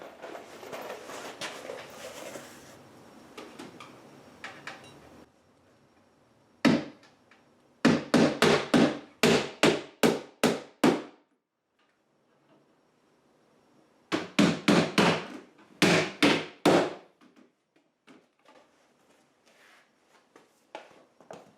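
A hammer driving nails into wooden roof rafters of a chicken coop in two clusters of sharp, ringing blows, about six strikes each, preceded by faint talk and scraping.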